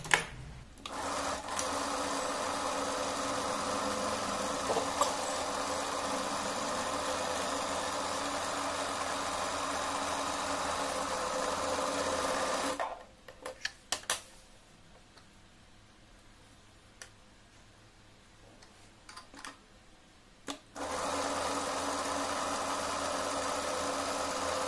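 Sewing machine stitching through sponge padding cut from an old shawl, a steady mechanical whirr running in long bursts with a pause in the middle before the motor starts again.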